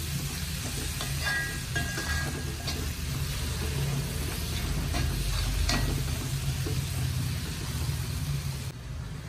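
Chopped tomato masala for a squid curry fries in oil in a pan, giving a steady, close sizzle that runs on without a break.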